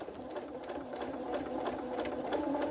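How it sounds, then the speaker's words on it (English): A sewing machine runs steadily, stitching a quarter-inch seam through quilt fabric, its fast mechanical whirr and rattle continuing throughout at a moderate level. "take it back to your sewing machine"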